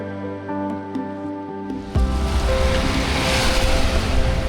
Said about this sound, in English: This is Pereybere Beach. And this is the public beach.